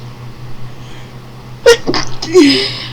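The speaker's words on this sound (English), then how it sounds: "Oh, it sneezes." Character sneezing in the video game Doki Doki Literature Club, a quick pair of sharp sneezes rising out of a quiet hum, close and loud.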